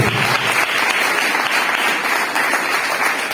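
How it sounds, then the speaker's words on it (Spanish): Loud, close applause from a congregation in church during a Bible teaching session, a thick, continuous clapping of many hands held at an even level throughout, with no talking over it. "Vamos a darle un aplauso al Señor."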